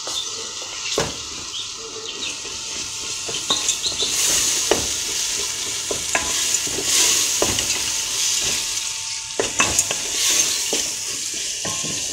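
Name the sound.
lentils and tomato paste being sautéed and stirred in a pot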